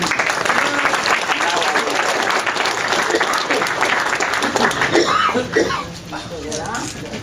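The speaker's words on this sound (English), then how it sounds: "A polite ripple of applause to me" Steady applause from an audience fills most of the clip, a dense patter of clapping that thins and fades near the end, with a few coughs mixed in.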